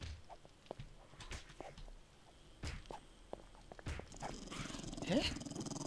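A dog growls faintly from a basement in the survival game 7 Days to Die, low and muffled, amid scattered footsteps and thumps as the player moves about.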